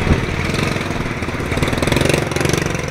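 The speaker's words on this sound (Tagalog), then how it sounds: "May motor oh." A motorcycle engine runs close by on a road trip, a loud, steady pulsing putter with a slight surge in revs partway through, no talk over it.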